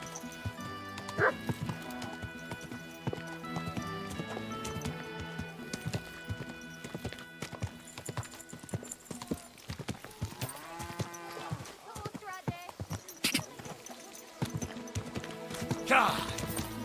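Horse hooves clip-clop in the Kingdom Come: Deliverance II video game, a steady trotting rhythm running most of the way through, mixed with music and game voices.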